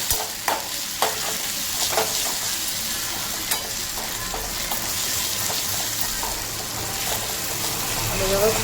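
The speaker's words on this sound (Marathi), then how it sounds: "परतून घ्यायचं आपण" Chopped onion sautéing with a ginger, garlic, coriander and green chili paste: a continuous close sizzle, with scattered light knocks and scrapes from stirring throughout.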